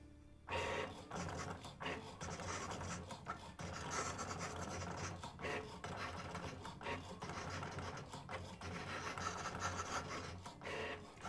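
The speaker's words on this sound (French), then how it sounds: "La découpe est lancée." A Cricut Maker 3 cutting machine slices material with a steady, quiet mechanical whir broken by short rhythmic rasps and pauses as the carriage moves, faint and close with no talking.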